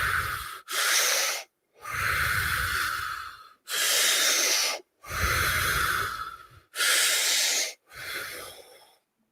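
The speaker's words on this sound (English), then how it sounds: "Keep deep breaths in." Deep, forceful breaths during a breathing exercise: about seven long, loud, close inhales and exhales with a rough, hissing rush of air, separated by brief silent gaps, no talking.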